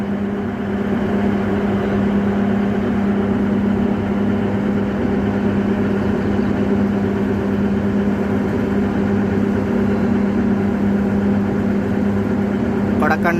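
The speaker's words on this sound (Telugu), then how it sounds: "కొడకండ్ల నుంచి మనకి ట్రైన్ అయితే బయలుదేరింది" A DEMU passenger train pulls away from Kodakandla station on the Secunderabad–Siddipet line, its engine droning in a steady, loud low rumble with constant rolling noise throughout.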